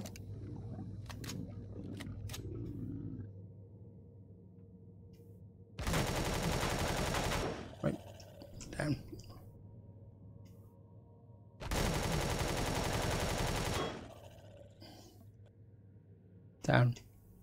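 Weapon fire in the space survival game Empyrion Galactic Survival, two loud sustained bursts of about two seconds each, separated by quieter clicks and a spoken reload call, with scattered single shots around them.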